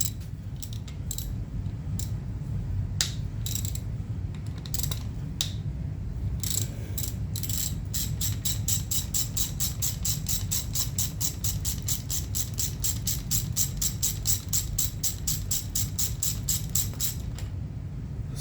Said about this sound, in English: busting these loose with a ratchet